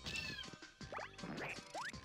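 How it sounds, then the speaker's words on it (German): Cats meow repeatedly in Super Paper Mario, several bright, rising cries in quick succession over a humming game background, close and clear, with no talking. "Ach, der schießt Katzen."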